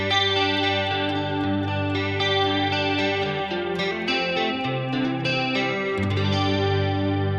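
Electric guitar played on the neck pickup through a Headrush multi-effects rig, ringing sustained chords and notes with chorus-like shimmer and some grit, loud and continuous with no talking over it.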